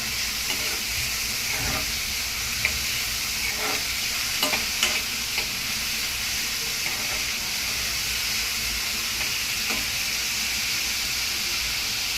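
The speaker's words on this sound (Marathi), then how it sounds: "कांदा लालसर भाजून घेऊया ना आता लालसर भाजून घेऊया कांदा" Onion fries in a pan until reddish for a Konkan village vegetable dish, giving a dense, loud, unbroken sizzle with occasional faint scraping clicks throughout.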